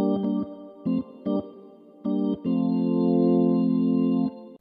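A Logic Vintage B3 organ plugin on its reggae organ preset plays short, choppy chord stabs in an offbeat rhythm, then one longer held chord. The tone is clean and close, with no voices.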